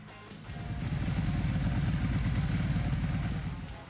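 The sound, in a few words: Ducati Hypermotard 1100 motorcycle engine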